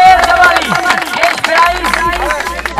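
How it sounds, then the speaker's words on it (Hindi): Crowd clapping at a cricket tournament final's prize ceremony in Nawabshah, a loose round of applause under someone speaking over a loudspeaker, with crowd murmur throughout. "तालियां होनी चाहिए, ये आम ट्रॉफी नहीं है, बहुत ही बड़ी ट्रॉफी है।"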